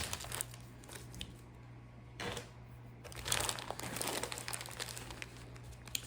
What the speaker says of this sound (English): carefully open these up with your scissors